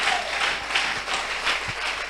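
A church congregation applauds during a Sunday service, a steady, dense wash of clapping from many hands filling the whole stretch without pause.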